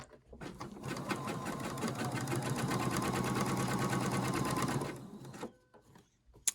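A sewing machine runs in one steady, close burst of rapid stitching across a quilt block for about five seconds, then stops, followed by a few faint handling clicks.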